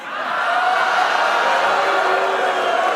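A late-night talk show studio audience boos, a dense, sustained wall of crowd voices that swells in and holds loud and steady for about three seconds with no one speaking over it.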